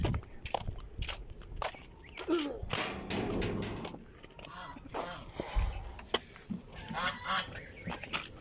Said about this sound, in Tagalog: Ang gansa.